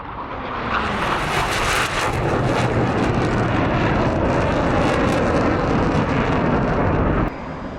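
An F/A-18 Hornet jet roars past in a flight simulator game, a loud, broad rushing engine noise that builds, holds steady for several seconds and then cuts off abruptly near the end.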